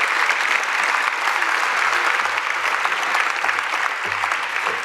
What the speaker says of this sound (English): Let's have another round of applause for these wonderful, wonderful instructors, these teachers.